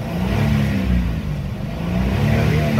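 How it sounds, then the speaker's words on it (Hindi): Nissan petrol car engine revved past 5000 RPM with the accelerator after a throttle pedal sensor fault repair, a loud, sustained close-up roar that dips slightly and climbs again. "अभी देख रहे हैं 5000 RPM के ऊपर जा रहा है, फिर भी चेक इंजन लाइट नहीं आ रहा है।"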